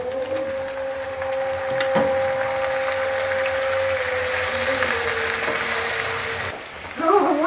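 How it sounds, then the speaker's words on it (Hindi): Chicken pieces frying in a pan with chopped garlic, ginger and cumin, a steady loud sizzle with occasional stirring scrapes, close up and without talk. "चिकन डाल के हमने इसको अच्छी तरह से भून लेना है, तकरीबन 8 से 10 मिनट तक"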